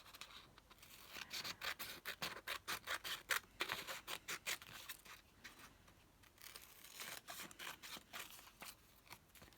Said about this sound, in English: Get these scissors and just trim around.